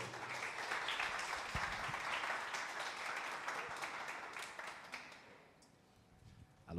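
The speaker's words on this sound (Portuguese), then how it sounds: "salva de palmas aí para o Gart" Audience applause for the speaker Gart at a business talk, a fairly faint, dense clapping from a crowd that holds steady and then thins out toward the end.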